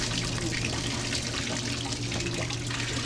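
Steady hiss of water running hard from a tap, continuous and fairly close, with no pauses.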